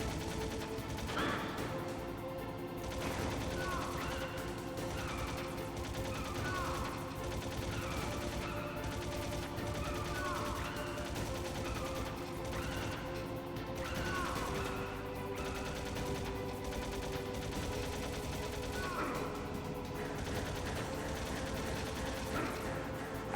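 Sustained gunfire in the video game Metal Gear Solid as bullets hit Snake, heard as a dense, steady wash of rapid shots and mechanical clatter lasting the whole stretch, with game sounds layered throughout.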